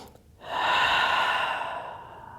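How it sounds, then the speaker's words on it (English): One long, deep breath taken during a morning vinyasa yoga flow, a steady airy rush that swells quickly, holds full and then slowly fades, heard close and alone. "Take one full breath here."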